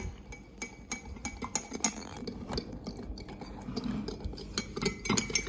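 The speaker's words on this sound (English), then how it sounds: "Now we'll stir it until it turns brown." Spoon stirring a hot drink with hot water in a glass, a rapid series of light clinks and taps against the glass, close and moderately quiet, continuing steadily throughout.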